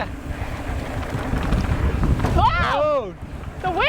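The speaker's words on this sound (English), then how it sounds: "Oh, the wind took me again." Strong wind buffets the microphone outdoors in Richfield, Utah, producing a heavy, continuous rumbling roar, and a voice briefly rises over it near the end.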